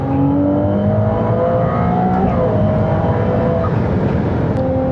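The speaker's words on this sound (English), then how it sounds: "I got the windows up and you can still hear the engine kind of whining back there." A Ferrari 296 GTB Assetto Fiorano cruises at about 5,000 RPM with the windows up. A loud, steady engine drone and whine carries through the cabin and holds constant without a break.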